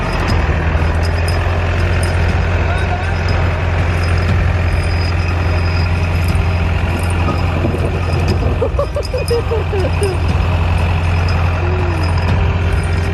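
Tractor engine pulling a big aluminum and steel trailer during a thunderstorm, a loud steady low rumble and drone throughout, with faint rattles and a little voice underneath.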